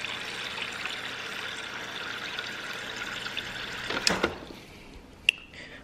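Filtered fridge water poured into rice in a kitchen, a steady trickling flow that runs for several seconds before tapering off, followed by a couple of sharp clinks.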